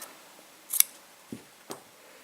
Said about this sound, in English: I'm just going to cut the yarn